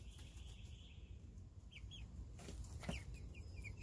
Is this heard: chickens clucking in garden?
yes